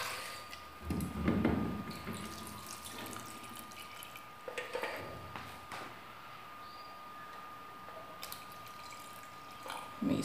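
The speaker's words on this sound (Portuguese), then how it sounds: "Eu vou colocar água só mesmo até cobrir." Water pours into a pressure cooker pot over potatoes in a home kitchen, a soft, fairly quiet running stream with a few louder splashes and clatters, no voices.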